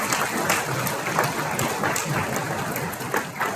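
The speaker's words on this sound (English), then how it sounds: "Let's give him a big round of applause." A conference plenary audience applauds a state representative with continuous clapping that rises and falls slightly, fairly close and even, with no talk over it.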